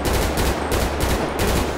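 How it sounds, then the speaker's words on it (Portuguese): Rapid G36 rifle fire in GTA 5, a loud close stream of quick shots cut into short bursts with brief gaps, no voices. "Bom, vocês viram também o tiro da G36."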